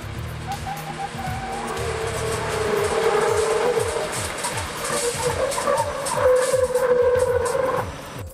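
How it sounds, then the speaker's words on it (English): A vehicle fitted with a lightweight metal matrix composite brake drum from Century brakes hard to a stop, a steady rushing road and tire roar with rhythmic low thumps swelling then fading as it slows, no talk. "Braking with the Century drum was extremely effective, stopping the vehicle quickly and smoothly."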